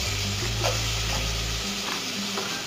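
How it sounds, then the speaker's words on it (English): Chopped onion and garlic dropped into hot oil in a pan, a steady loud sizzle and hiss that carries on evenly throughout, heard alone with no voices. "We're going to throw the onion in on top of the hot oil now first."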